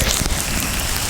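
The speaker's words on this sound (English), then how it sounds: "There's rain all over the place." Downpour on a flooding Reno street, a loud, even wash of rain hitting pavement close to the listener, unbroken for the whole stretch with no talk.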